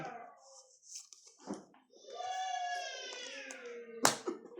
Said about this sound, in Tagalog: Meow! Sabi nga niya.